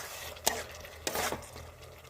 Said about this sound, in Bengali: দিয়ে ভালো করে আমি নেড়ে দেবো।